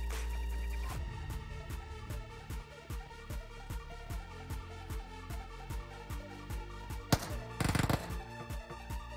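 Rapid gunfire from a bot in the video game Metro Royale, a steady rhythmic stream of sharp shots at moderate distance over a tonal game soundtrack, with a louder flurry near the end.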